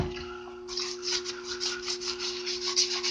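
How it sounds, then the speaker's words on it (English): Rust is rubbed off metal after a vinegar soak, a close, repeated rasping scrub with a steady background hum and no talk. "Rust is just literally wiping right off of this thing."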